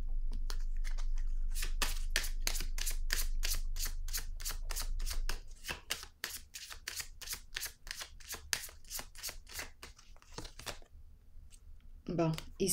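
Playing cards riffled and shuffled in a long run of rapid, evenly spaced flicks, close and crisp, pausing briefly before a few more card sounds at the end; no talking over it.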